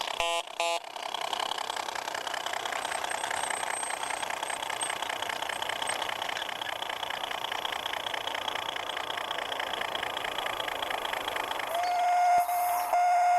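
A model railway ore train runs through a small layout station on its way to sidings, giving a steady, close rhythmic rolling and motor hum throughout, with a brief clatter at the start.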